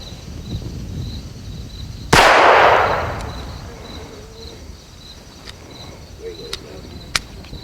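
A single sharp report from a Phoenix Arms HP25A pistol fired at a range, loud and close with a decaying tail, followed by quieter ambience and a few faint distant pops.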